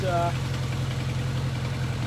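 A steady, low 1983 Kawasaki KZ750 Spectre motorcycle engine idles around 1500 RPM with an even, chunky throb, close by, with a brief higher tone at the start.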